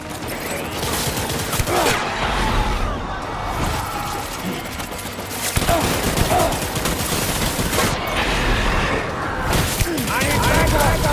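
Gunfire in the war-battlefield game Death Stranding rattles in dense, chaotic volleys with thuds and crashes, a loud continuous barrage with shouting mixed in.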